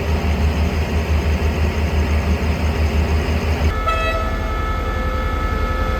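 A Thai State Railway locomotive on train 83 rumbles loudly nearby with a steady engine drone, then a sustained horn toot sounds partway through as the rumble continues.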